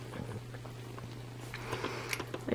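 A contented female cat purrs close up with a steady low hum, fairly quiet, with faint rustling over it.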